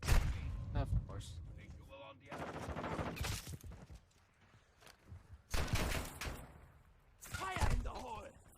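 A flashbang grenade and gunfire in a shooter video game, with sharp bursts and thuds scattered through the stretch and voices shouting between the blasts.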